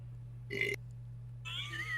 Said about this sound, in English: Besides burping. Just like drowning the world in your burps.